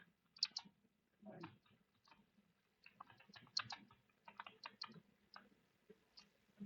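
An applicant's name is typed in English on a computer keyboard while an online form is filled in: quiet, close, irregular keystroke clicks in quick bursts.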